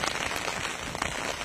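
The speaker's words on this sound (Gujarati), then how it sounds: "આ વરસાદ ચાલુ છે" Rain falls steadily on a farm field of harvested groundnut piles in Amreli, Gujarat, a dense, close patter of drops with no voices.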